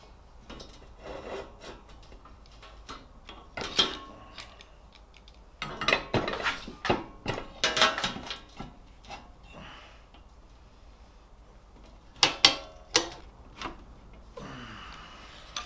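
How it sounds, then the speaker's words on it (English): Metal parts of a Suzuki motorcycle tail unit being handled and clamped in a workshop, giving irregular bursts of close scraping, rubbing and clattering separated by quiet stretches, with no talk. "I'll clamp that up."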